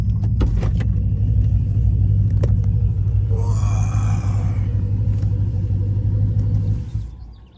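A truck engine idles as it warms up, a loud steady low rumble with a few clunks and a brief whine, fading out near the end.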